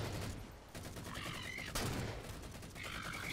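DMR rifle fire in the Halo 4 video game: a rapid string of sharp, loud shots in bursts, with game effects chiming in between, no talking.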